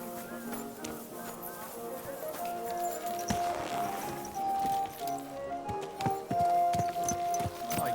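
Horse hooves clip-clop in the medieval video game Kingdom Come Deliverance II, an irregular run of hoofbeats under sustained tonal game music with background sounds.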